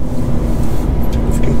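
Car driving along a road, a loud close rumble of engine and tyre noise that holds steady with faint higher hiss over the top, no voices.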